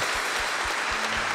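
An audience at an anniversary concert claps in a dense, steady burst of applause, loud and close.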